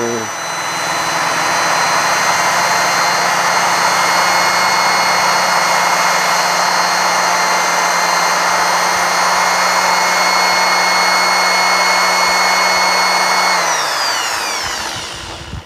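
A steady, high-pitched whirring grind of a Cosmos 12-DWF wall fan blade spinning against 1500-grit sandpaper, continuous and loud, winding down in pitch near the end.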